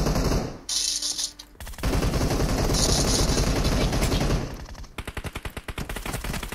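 Gunfire in the mobile battle royale game PUBG Mobile: dense, loud automatic bursts filling most of the stretch, ending in a rapid rhythmic volley of shots, close and continuous.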